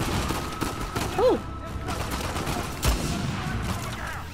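Sniper rifle gunfire in the video game Uncharted 4: A Thief's End, heard as a couple of sharp loud reports amid busy game noise, with a brief vocal exclamation.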